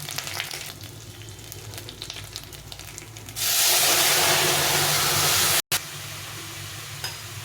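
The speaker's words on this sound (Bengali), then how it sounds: "এখন আমি ডালটাকে ফোড়ন দিয়ে দেবো।" Mung dal tempered with fried spices: a quiet background sizzle and clinks, then a sudden loud, dense hiss as the hot spices hit the dal, holding for about two seconds before cutting off and settling back to a gentle simmer.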